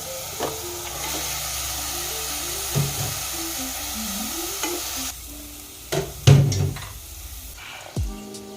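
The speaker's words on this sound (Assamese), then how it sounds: "আৰু এতিয়া এয়া মাংসখিনি ইয়াতে দি দিম।" Meat goes into a pan for a pressure-cooker mutton curry and is stirred, giving soft sizzling and scraping under a low background hum, with a few louder clatters and a thump near the end.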